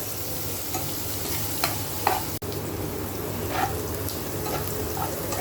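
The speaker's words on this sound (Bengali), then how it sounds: "মিষ্টি কুমড়া ভাজিতে তেলে দিলাম রসুন ছেঁচা পেঁয়াজ কুচি কাঁচামরিচ লবণ সামান্য হলুদ একটু ভাজা ভাজা হয়ে গেছে" Garlic, onion and green chili sizzling in oil for a pumpkin fry, a steady crackling fry with a few soft stirring scrapes and clinks, fairly close, with no talking.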